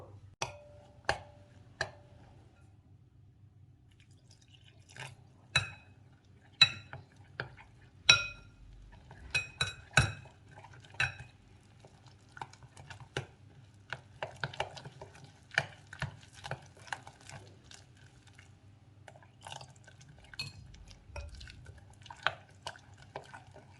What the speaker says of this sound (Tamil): இப்போ இது தண்ணி விட்டு கரைச்சி எடுத்துக்கலாம்